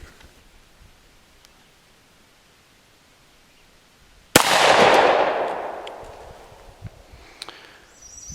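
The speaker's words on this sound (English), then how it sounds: "That's the first shot." A single sharp, loud report from a Taurus Judge Public Defender Poly revolver firing 410 buckshot at an outdoor range, its blast decaying into a long rumbling echo after a quiet lead-in.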